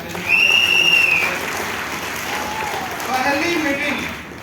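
A meeting crowd in Lucknow applauds for Dr. Biplab Bhadra, the clapping swelling early then easing, while a high whistling tone rings out and a voice speaks over it.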